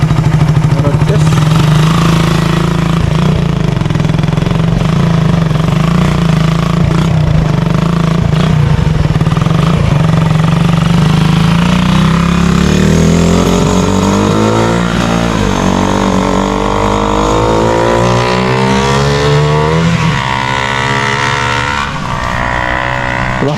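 A 2011 Raider 150 motorcycle on a road test, its loud engine droning steadily up close, then revving up through gears with rising pitch sweeps toward the end.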